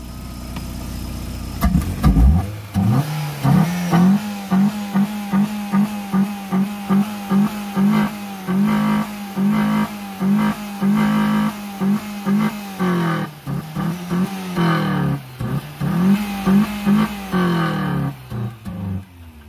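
A car engine fitted with a bazooka intake, revved close up in a steady series of short, rhythmic blips over a running idle, loud and alone with no talk.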